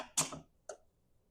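Two crisp snips of scissors cutting through fabric, close by and quiet, separated by about half a second of silence.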